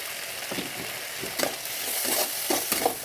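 Pieces of pointed gourd go into a hot frying pan for chilli potol, giving a continuous hiss and sizzle with soft stirring scrapes, close and moderately loud, and no talking.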